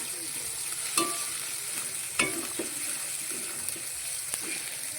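Spice masala for a spicy pabda fish curry is stirred and sautéed in a pan with a soft, continuous frying hiss and a few sharp spoon-scrape clicks against the pan.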